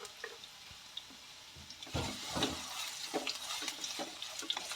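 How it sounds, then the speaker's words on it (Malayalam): Long-sliced beetroot sautéing in oil in a pan, a soft, continuous sizzle with faint stirring scrapes and a few louder bursts partway through. "1 മിനിറ്റ് നേരം എണ്ണയിലിട്ട് ജസ്റ്റ് ഒന്ന് വഴറ്റിയെടുക്കുക."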